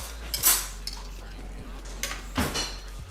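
Warm food tossed in vinaigrette in a bowl, stirred with metal utensils: a few bright clinks and scraping swishes come close up in uneven bursts over a low background hum.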